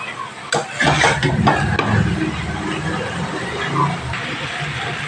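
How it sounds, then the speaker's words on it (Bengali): Spice paste is stirred and sautéed in a pan for a Bengali prawn and bottle gourd greens dish, making a close, busy sizzle with clattering spoon-against-pan scrapes that settle into a softer fry. "দিয়ে ভালোভাবে মশলার সাথে কষিয়ে নিতে হবে যাতে কাঁচা গন্ধ না বেরোয়"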